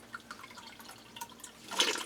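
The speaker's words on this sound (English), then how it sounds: "water comes out the end when I squeeze the bulb" Water trickling and dripping from the outlet of an emergency water filter primed by squeezing a bulb, soft irregular drips and small splashes, faint and close, ending in a brief louder gush.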